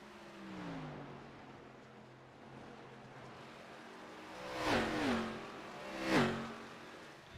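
An ARCA Series race car at Dover International Speedway roars past twice on the oval, each pass rising to a loud doppler sweep before fading, following a steadier distant engine drone.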